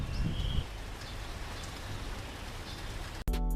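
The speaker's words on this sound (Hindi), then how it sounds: "लेकिन अभी बारिश चल रहा है और मॉर्निंग का टाइम है" Steady rain falls on a hilltop in the morning, a dense even hiss throughout, with a low rumble early on and a sharp abrupt change near the end.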